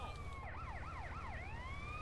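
A wailing fire truck siren from GTA San Andreas sweeps up and down in a fast repeating yelp, faint and steady against low game noise, with no talking.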